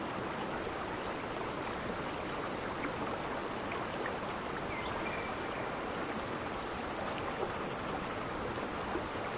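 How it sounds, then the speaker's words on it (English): Steady, even rush of a flowing river, continuous and soft with no voices. "Use the sounds of the river to clear your mind."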